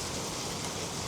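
Rain falls steadily during a family vacation in the Philippines, a dense even hiss with no breaks across the whole second, no voices present.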